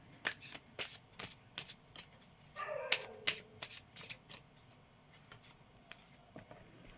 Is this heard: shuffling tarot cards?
yes